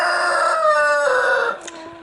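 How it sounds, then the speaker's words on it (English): A rooster crows once close by, a drawn-out cock-a-doodle-doo with a strained, rising call that tails off, heard alone outdoors beside a clay oven. "Sorry about the rooster."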